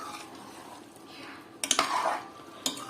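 Carrot halwa cooks in a pot at home: a spoon stirs with soft scraping under a steady background hiss, and sharp metal clinks ring out against the vessel at two points.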